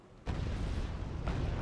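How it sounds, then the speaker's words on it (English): Strop helicopters firing missiles in the video game Wargame: AirLand Battle, heard as a sudden loud launch boom followed by a sustained rumbling roar and a second surge near the end, no talk. "Strops are going to fire their missiles next."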